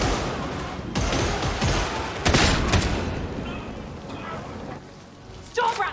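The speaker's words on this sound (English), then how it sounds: "It's an assault rifle of sorts. It's got quite the kick to it" Assault rifle fire in the Warhammer 40000 Darktide video game, dense bursts of rapid, punchy shots at close range, bunched together and tapering off toward the end.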